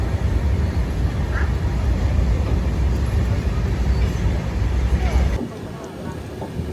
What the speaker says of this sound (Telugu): దాని వెనకాలే మన ట్రైన్ కూడా బయలుదేరింది.